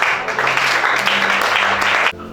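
Church congregation at a deliverance service applauding loudly, a thick wash of clapping hands sustained for about two seconds before cutting off sharply.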